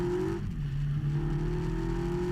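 A British sports car drives on a wet race track at Blyton Park in rain, its engine droning and shifting in pitch as it runs past, with no talking.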